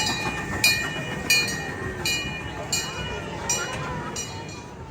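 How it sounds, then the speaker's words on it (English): A train rolls past in a California park, its wheels beating out a regular clickety-clack in repeated, evenly spaced clanks over a steady rumble at moderate distance. "Let's say goodbye to the train and to the park"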